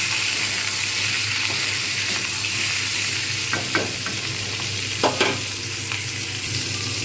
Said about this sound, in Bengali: এইবার আমি এতে দিয়ে দেবো কুমড়োগুলো